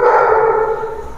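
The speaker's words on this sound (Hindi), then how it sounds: "तुम बेटा भौंक लो।" A dog lets out a single drawn-out, whining bark-howl, loud and close, sustained and fading slightly over about a second.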